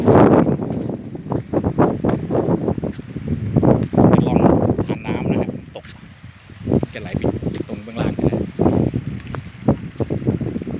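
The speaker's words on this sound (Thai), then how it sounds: "ลมแรงครับวันนี้" Strong wind at a hilltop campsite at Pha Luang Waterfall Forest Park, Thailand, buffets the microphone in loud, irregular gusts, rumbling and roaring, with brief calmer moments between blasts.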